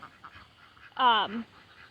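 A single loud, raspy quack from a duckling rings out close by, one short honking call over faint background noise and quiet voices.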